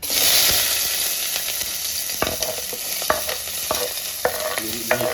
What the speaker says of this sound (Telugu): ఒక స్పూన్ ఆయిల్ వేసేసి ఉల్లిపాయలు పచ్చిమిర్చి కూడా ఫ్రై చేసుకుంటున్నాను